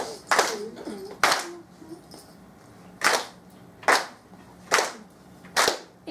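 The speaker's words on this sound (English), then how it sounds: "Now, can you clap this one for me?" Children clap a rhythm pattern, sharp, separate handclaps in an uneven sequence of about six claps with pauses between, fairly loud against a quiet room.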